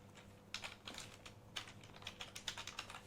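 Rapid, faint clicks of a computer keyboard come in uneven bursts of keystrokes, close up and with no talking.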